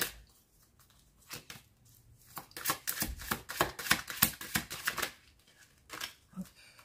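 A tarot deck is handled and a final card is drawn: soft rustles build into a rapid, close flutter of riffling cards, then settle into a few quieter slides and taps.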